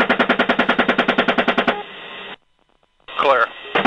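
Helicopter gunfire in Iraq comes over a military radio: a rapid, evenly spaced burst of shots lasting under two seconds, followed by radio hiss, a pause, and a garbled transmission.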